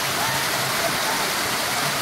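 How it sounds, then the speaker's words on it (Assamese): Shivkund waterfall at Amsoi pours down from above in a steady, dense roar of falling water, close and continuous with no breaks. "আমছৈৰ যি শিৱকুণ্ড ৱাটাৰফল আমি পিছপিনে দেখিবলৈ পাইছে পানী পৰি আছে"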